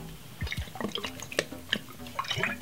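Olive oil goes into a fresh homemade summer salad, heard as soft, close wet drips and little splashes scattered unevenly over a couple of seconds, with no talking.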